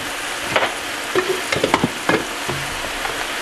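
Flour being stirred into browned venison in a pan, with a string of short scraping stir strokes over a low sizzle, close and fairly loud, with no voices.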